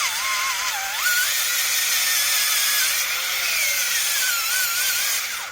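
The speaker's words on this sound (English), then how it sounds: "take the drill, and then just force it down like this" A hand drill is forced down through a piece of wood to cut it without a saw, giving a steady, loud, high whine that bends in pitch as the bit loads up, continuous and alone.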